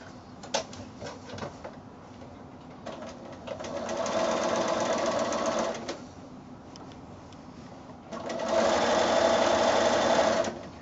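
A sewing machine stitches bias binding onto a scallop-edged quilt, whirring in two sustained runs separated by quieter pauses with small clicks and handling noises.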